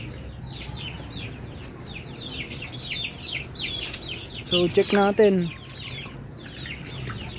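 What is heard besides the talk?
Rhode Island Red chickens clucking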